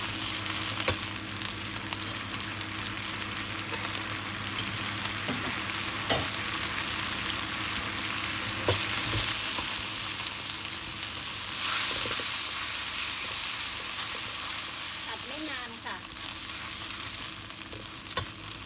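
Green beans and dried chili are stir-fried in a hot pan, giving a continuous loud sizzle with scraping stirring strokes and occasional clinks. No one speaks.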